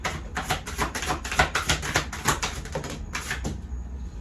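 Oracle cards are shuffled in a fast run of crisp, papery riffling taps, about a dozen close bursts in quick succession before fading into quiet.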